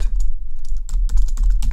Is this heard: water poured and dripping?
no